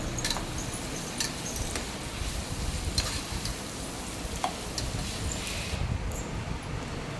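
Onion, tomato, beans and carrots are stir-fried in a pan for vegetable biryani, giving a continuous close sizzle with scraping stirs and occasional clinks of the utensil against the pan.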